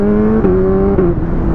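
A 1000cc sport motorcycle on an open road, its loud engine droning steadily up close with brief sharp exhaust pops breaking through around the shift points; no talking.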